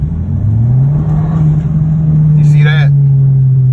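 Audi engine with a sprint booster revving from light throttle taps while driving around 37 mph, a steady low drone that swells and holds, with a voice speaking briefly over it.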